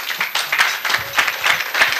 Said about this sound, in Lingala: je vous prie vraiment de vous acclamer pour vous-même